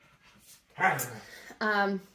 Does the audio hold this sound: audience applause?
no